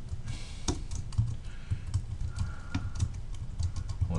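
Quick, close keystrokes on a computer keyboard as a macro name is typed in Excel, an irregular run of light taps and clacks with short pauses, heard alone without talk.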